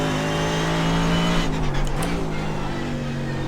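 Mercedes AMG GT3 racing engine in the iRacing simulator, a steady loud drone that dips with quick gear changes while braking and downshifting, alone with no voices.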